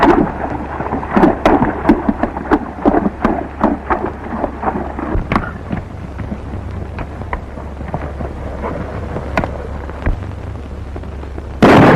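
Thunder and rain on an open range, rolling crackling thunderclaps and a steady hiss of rainfall, loud and close, with a sharp burst returning at the end.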